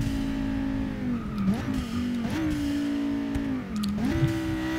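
Audi RS3 hatchback engine while driving, a steady loud droning note heard from inside the car, rising and dipping as the revs change, with brief whooshes and squeals over it.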